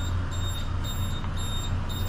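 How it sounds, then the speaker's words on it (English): Ship alarm sounding aboard a vessel in drydock: a steady, continuous high tone with regular faint pulses, heard alone over a loud low engine-room hum. "Why the alarm is on now?"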